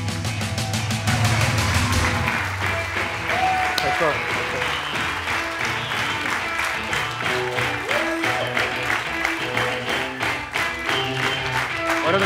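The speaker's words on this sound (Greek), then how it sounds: "με ένα πάρα πολύ θερμό χειροκρότημα" Warm applause from an event audience welcoming a guest onto the stage: dense, sustained clapping that runs loud and unbroken throughout, with a voice speaking over it.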